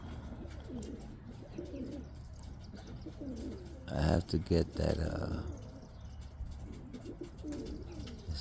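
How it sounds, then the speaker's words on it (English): Pet doves or pigeons coo steadily close by on a sunny Sunday afternoon, the soft repeated calls running through a man's speech, with a brief louder burst of fluttering or bustle midway. "sunny with the birds."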